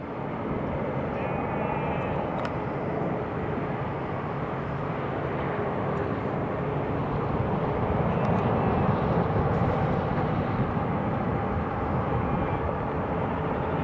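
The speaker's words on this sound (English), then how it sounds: "There's the Emirates just taxiing in on the stand." An Emirates airliner taxis in toward its stand at Newcastle International Airport, a steady broadband jet-engine roar holding at an even, moderately loud level throughout with no breaks.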